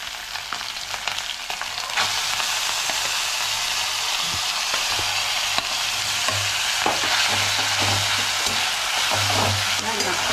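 Grated onion dropped into hot oil in a pan, a dense, loud sizzle running throughout with stirring scrapes and a low hum, no talking.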